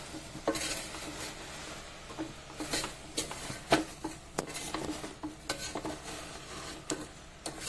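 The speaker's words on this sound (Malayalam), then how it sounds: "ഇതൊന്ന് ഉപ്പ് കൂടി ഇട്ടിട്ട് നമുക്ക് വഴറ്റാം" Cauliflower with potato, carrot and salt is sautéed in a pan for a cauliflower stew, with frequent soft scrapes and clinks of a spoon stirring against the pan over a faint sizzle.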